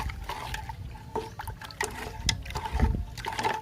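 A liquid herbicide mixture being stirred in a container makes a continuous sloshing, swirling water sound with small splashes, close by and steady throughout.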